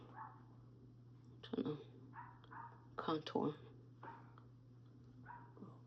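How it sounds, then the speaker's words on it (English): A dog barks in a home in two short, fairly close bursts, the second a quick cluster, while someone talks quietly in between. "it wouldn't be a day that ends in day if we didn't have a dog barking"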